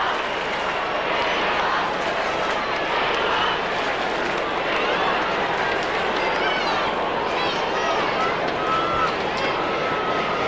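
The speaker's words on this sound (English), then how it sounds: "Crowd making plenty of noise." A large football crowd at Kardinia Park roars steadily through a 2005 AFL match between Geelong and Melbourne, a loud, dense wash of cheering and noise that holds constant from start to finish.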